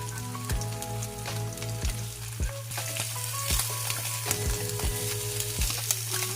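Slices of Spam fry in a pan toward golden brown with a steady close sizzle and crackle, broken by repeated light taps and scrapes of a utensil against the pan; no voices.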